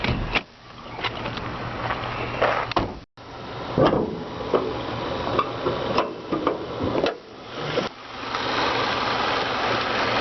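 A 2006 Saturn Ion Coupe's Ecotec 2.2-liter four-cylinder engine idles steadily under an open hood, a close, continuous hum with occasional light ticks and rattles.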